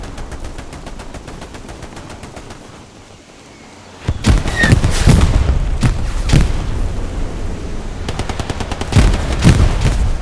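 Gunfire in Hell Let Loose, rapid automatic bursts and heavy booming shots, first somewhat distant and steady, then loud close blasts and sustained fire from about four seconds on.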